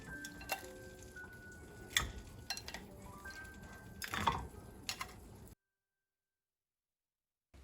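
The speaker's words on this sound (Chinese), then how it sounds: "听到拔丝苹果在碰到盘子时发出的清脆的声音了吗？" Pieces of candied toffee apple coated in hardened sugar syrup drop onto a plate, making a scattered series of crisp, close clinks and taps before the sound cuts to silence.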